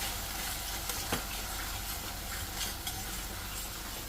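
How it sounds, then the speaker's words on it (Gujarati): Masala paste frying in oil and tomato gravy in a pan, a steady close sizzle with a faint stirring scrape, no talk. "તો હવે એની અંદર આપણે આ નાખી લઈશું મસાલો, જે આ પેસ્ટ બનાવી છે એ નાખી લઈએ અને આને થોડી વાર આપણે શેકવા દઈશું"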